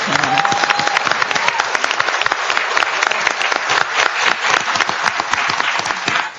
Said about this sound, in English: So why don't we do a round of applause for them